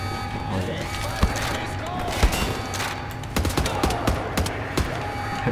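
Rapid gunfire from hip-fire shooting in the video game Wolfenstein: The New Order, with sharp repeated shots in bursts over a steady game background.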